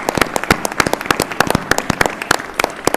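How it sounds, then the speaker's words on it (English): A school audience applauds students and staff at a district event, a brisk, steady patter of many hands clapping at close range throughout. "Can we have a big round of applause for all of our students and staff here today?"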